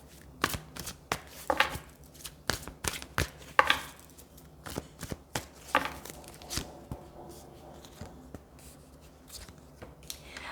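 Tarot cards being shuffled by hand for a reading, a run of crisp, close riffling bursts and slaps in an uneven rhythm, easing into a few quieter shuffles toward the end, with no talk.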